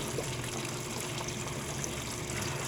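Water trickles and splashes steadily into the tub of a heavily used Speed Queen AWN432SP111TW01 top-load washer as it fills, a continuous close wash of falling water with no talk.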